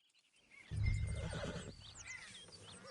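A big Shire horse in a Western open-world video game gives a loud, drawn-out whinny that rises sharply then trails off, with faint hoof movement and ambient outdoor background.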